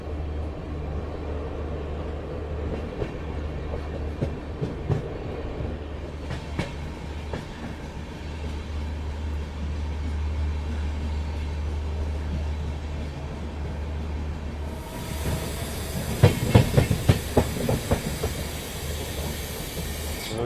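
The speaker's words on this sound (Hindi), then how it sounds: "फिलहाल अपनी शताब्दी एक्सप्रेस पहुंच रही है मथुरा जंक्शन रेलवे स्टेशन" The Bhopal Shatabdi Express runs on its tracks toward Mathura Junction, a steady low rumble and hiss from inside the moving train, then a burst of rhythmic clattering wheel clicks near the end.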